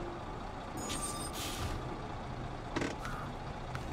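A heavy Voron truck drives over rough ground in the Snowrunner video game, its engine rumbling steadily alongside brief hissing bursts and a couple of clunks, with no talking.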